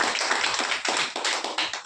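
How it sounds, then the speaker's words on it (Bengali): A small audience at a direct-sales training session clapping for an upline, a short thin burst of scattered applause from a few pairs of hands. "যে আমাকে ব্যবসা দিয়েছে তার জন্য এইটুকুনি হাততালি?"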